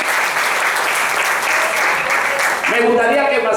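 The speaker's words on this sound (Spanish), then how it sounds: "Den un aplauso a Israel en esta tarde que estamos celebrando esto." Church congregation applauding steadily at a special Israel-themed service, a dense, even clapping that fills the room for several seconds before a voice begins speaking over it.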